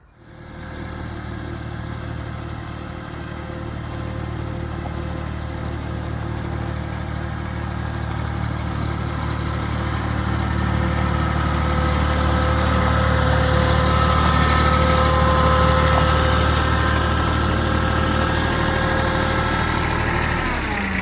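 A tractor engine idles steadily and close, a low continuous rumble with a faint whine that slowly grows a little louder, with no voices.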